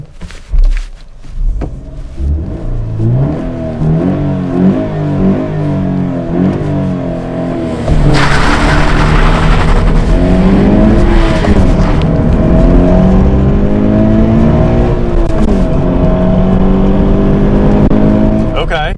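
A 2016 Subaru BRZ makes a straight-line launch with traction control off, its engine revving hard and rising through a loud, sustained pull as the wheels spin; a voice talks over the start.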